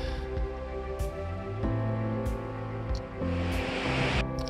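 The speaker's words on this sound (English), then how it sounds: "This trail got me down to the actual Genesee River" The Genesee River in Letchworth State Park flowing steadily, a broad continuous rush of water heard close and loud, with no talking.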